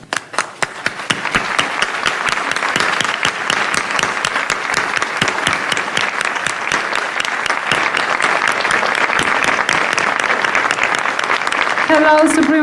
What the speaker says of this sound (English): let's give a warm round of applause for the most generous Supreme Master Ching Hai